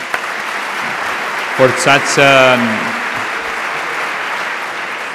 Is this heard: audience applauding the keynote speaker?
yes